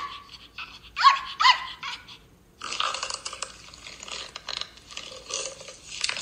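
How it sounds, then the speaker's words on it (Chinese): Dog barking in a few short, sharp yelps early on, followed by a stretch of rough, scratchy noise; moderately loud and close with no talking. "狗。"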